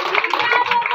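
A crowd claps loudly at a Christmas gathering in a dense, continuous burst of applause lasting about a second.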